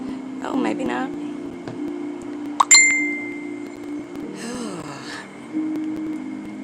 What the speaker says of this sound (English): I apologize that my phone dings.